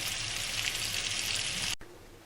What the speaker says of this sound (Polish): obsmażyć najpierw nasze zrazy na tej gęsinie